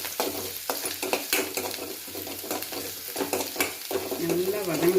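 Ingredients for black chickpea sundal, with curry leaves and coriander leaves, sautéed on high flame, a steady sizzle broken by repeated scraping stirs and clinks, with a faint voice-like tone near the end.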